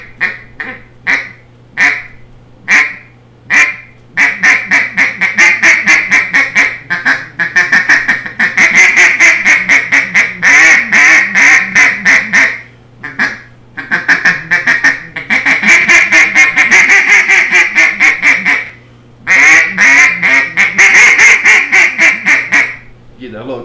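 A handheld duck call imitates an excited duck, starting with a few spaced single quacks, then breaking into long, rapid, loud runs of chattering quacks with short pauses between bursts, close to the listener.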